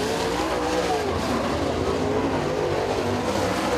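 Super late model race car engines drone continuously at high revs on a track at Freedom Motorsports Park, a dense roaring wash of motors with shifting pitch, steady and loud throughout.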